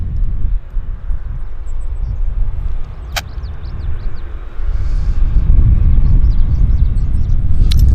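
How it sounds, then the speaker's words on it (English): United airliner taxiing at Vancouver airport, a low, steady engine rumble that swells louder in the latter half, with no voices heard. "We got a United taxiing out as well before our very eyes, right here, closer."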